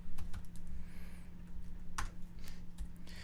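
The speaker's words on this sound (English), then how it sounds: "He's Zach typing." Fingers typing on a computer keyboard in bursts of quick, light key clicks close to the mic, with a low steady hum behind and no talk.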